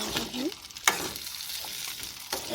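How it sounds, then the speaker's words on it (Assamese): Pieces of mutton fry over a high flame with a close, crackling sizzle. A couple of sharp scrapes of a stirring utensil cut through, brief and moderately loud. "1 মিনিটৰ কাৰণে হাই ফ্লেমত ভাজি ল'ম"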